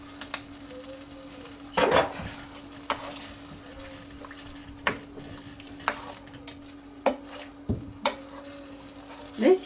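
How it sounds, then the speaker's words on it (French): Pork filet mignon in cream simmers gently over very low heat in a pan, a soft low bubbling broken by the sharp clinks of a utensil tapping and stirring against the pan. "je rajoute ma pointe de crème et je laisse mijoter encore 5 minutes à feu tout doux"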